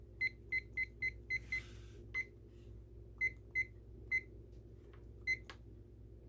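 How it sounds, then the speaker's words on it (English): A kitchen timer being set for 25 minutes while sourdough bread proofs, giving a quick run of short, bright beeps followed by a few spaced single beeps, close and clear over a low background hum. "I'm going to set my timer for 25 minutes."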